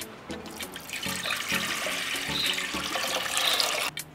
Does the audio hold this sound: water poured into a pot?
yes